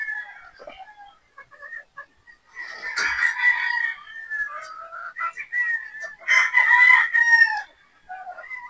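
Gamefowl pullets, a 3/4 Sweater 1/4 Boston cross on a game farm, make repeated short clucks and squawks, with rooster crowing breaking out in two louder bursts near the middle and later, all close and clear.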